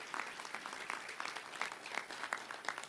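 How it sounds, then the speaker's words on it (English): An audience bursts into a dense, steady round of clapping at an event opening Detroit's Ralph C. Wilson Jr. Park, many hands pattering together at moderate volume for the whole stretch. "So a round of applause for all of those great folks"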